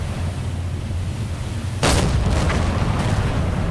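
A torpedo strikes an enemy ship in the submarine game Silent Hunter IV, producing a single loud, sudden explosion that cuts through a steady low rumble and then trails off into a rolling, crackling boom.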